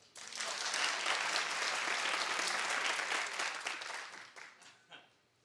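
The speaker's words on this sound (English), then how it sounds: "Clap if you were watching with me." A studio audience at a daytime talk show claps in a dense, steady burst that fades out over the last second.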